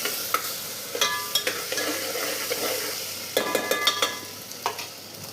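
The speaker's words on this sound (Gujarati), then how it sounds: "થોડુંક લાલ મરચાંનું પાવડર અને સમારેલા ટમેટા ઉમેરી દેશું। બધાને મિક્સ કરી દેશું।" Chopped tomatoes and red chili powder are stirred in a hot pan for yellow khichdi. A low, steady sizzle runs throughout, with a series of scraping clinks from the spoon against the pan, several of them bunched together near the end.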